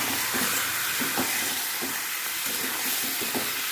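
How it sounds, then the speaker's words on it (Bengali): Chicken pieces tipped into hot oil in a pan hiss loudly with a dense, steady close sizzle and soft rhythmic bumps of stirring underneath. "এবারে চিকেনের টুকরোগুলোকে ঢেলে দিলাম।"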